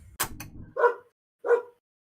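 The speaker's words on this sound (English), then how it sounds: "Apparently something has pissed off my dog." A pet dog lets out two separate, moderately loud barks about half a second apart, heard a little way off from the microphone, with a brief muffled knock or thump just before them.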